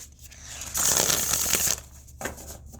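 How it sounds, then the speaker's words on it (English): A new deck of tarot cards is riffled in one loud, crisp burst lasting about a second, followed by softer handling and a brief flick. "And this one, straight out of the box, with the magic of Ethany, shuffles really well."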